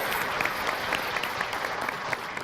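Steady, dense applause from an audience cheering for children at a judged event, continuous clapping throughout.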